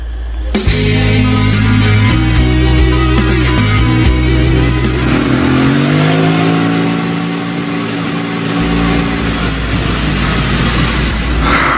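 A motorcycle carrying a passenger passes by, its mid-pitched engine revving loudly and shifting as it goes, with a steady rumble throughout and no speech.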